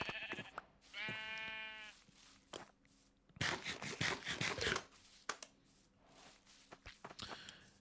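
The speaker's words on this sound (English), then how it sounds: "Look at all these sheep." A flock of sheep bleats, one clear drawn-out wavering call near the start and shorter cries around it, with rustling, footsteps and crunchy movement close by and a brief voice.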